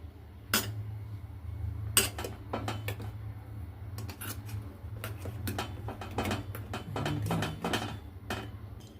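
Metal spoons clinking and scraping against separate bowls while colored tutti frutti pieces are stirred, with light irregular taps and clinks over a low steady background hum.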